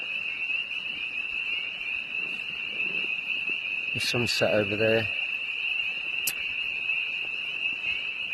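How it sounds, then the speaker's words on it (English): Frogs croak in a dense, unbroken chorus beside a river at dusk on the Appalachian Trail. The loud, steady drone runs throughout, and a person speaks briefly partway through. "Frogs."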